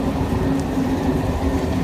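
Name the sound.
train passing through a city centre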